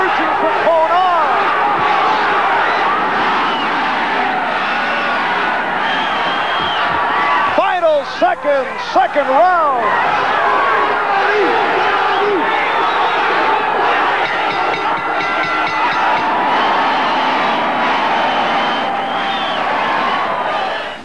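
A loud boxing crowd roars and cheers continuously at a Chacon vs Boza-Edwards fight, with a sharper burst of yelling midway and a commentator talking over the din.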